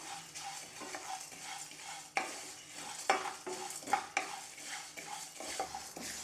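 Whole masala tea spices dry roasting over low heat in a pan, stirred with repeated scraping strokes and light clinks of the utensil against metal, fairly quiet and close, with no talking.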